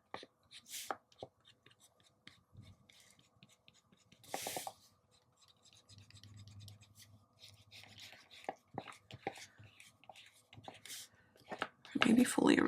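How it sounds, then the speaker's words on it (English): Pencil marks are lightly erased from paper with an eraser in short, intermittent rubbing scratches, quiet and close, with a voice faintly present at times and a louder rustle at the end. "I'm going to kind of lightly erase"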